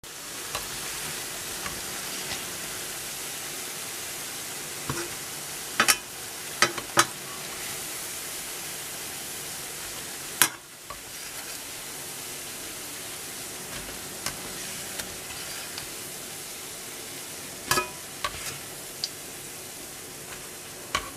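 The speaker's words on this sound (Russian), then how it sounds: "И сейчас буду выпекать на разогретой сковородке." Steady sizzling of grated-potato pancake batter frying in a hot pan, a continuous crackle with occasional sharper pops and clinks, close by and without talk.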